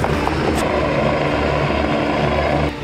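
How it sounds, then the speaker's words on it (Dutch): A helicopter landing to pick up passengers for a festival, in rain. Its engine and rotor give a loud, steady, close roar that fills the whole stretch without a break. "Dit is een helikopter."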